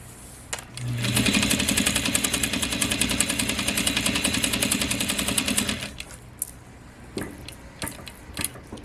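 A Juki DDL-8700 industrial sewing machine stitches in one sustained burst of about five seconds, a rapid, rhythmic needle clatter over a motor hum, with a few sharp clicks before and after in a quiet room.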